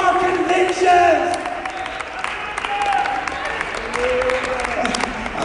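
A congregation applauds during a church sermon, a steady wash of clapping with voices and a few brief tones rising above it.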